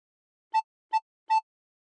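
Three short, evenly spaced recorder notes at the same pitch, played with the thumb hole covered and fingers on the first two holes, clear and alone against silence.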